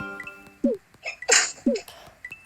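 A single sharp sneeze bursts out amid game sound effects and chimes, followed by other brief vocal noises.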